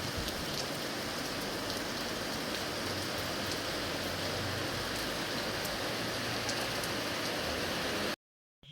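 Heavy rain pours outside in a dense, steady hiss with scattered drop impacts, continuous and fairly close, before cutting off abruptly at the end.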